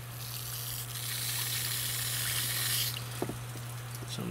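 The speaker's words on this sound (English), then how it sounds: "Alright, let's wash them off. I got a water hose right here." A garden water hose sprays steadily onto a pile of small freshly caught bream, a broad close hiss running nearly three seconds before easing into softer splashes and drips, with a faint steady hum underneath.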